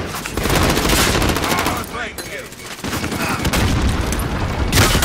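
Sustained video game gunfire from a tactical sniper shooter keeps up dense, loud, overlapping bursts of automatic fire and booms throughout, with a voice calling out under the shooting.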